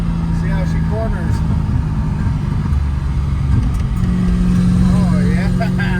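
Ford Thunderbird driving and cornering on a mountain road, with a steady engine drone and tire noise running throughout, loud and continuous, while people talk over it.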